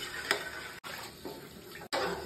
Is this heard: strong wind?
no